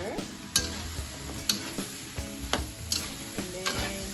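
Pumpkin and chicken stirred together in a frying pan sound as a low sizzle under repeated sharp taps and scrapes of the utensil against the pan, roughly once a second, close by with no voices.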